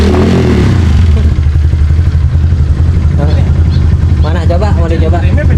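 An old motorcycle engine, running after coil and ground wiring work, chugs loudly and revs with rough mechanical clatter, while people talk close by throughout.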